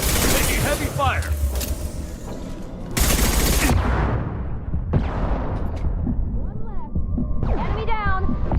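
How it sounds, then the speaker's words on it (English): Heavy gunfire rattles through a Mass Effect 2 battle in dense, loud bursts with booming impacts, while in-game characters shout over the shooting. "Taking heavy fire!"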